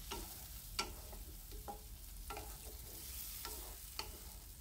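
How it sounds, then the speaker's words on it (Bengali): Fried potato and eggplant being stirred into spice paste in a pan, with soft intermittent scraping strokes over a faint, steady sizzle and no talking. "আস্তে আস্তে মশলার সাথে আলু আর বেগুনটা ভালোভাবে মিশিয়ে নিতে হবে"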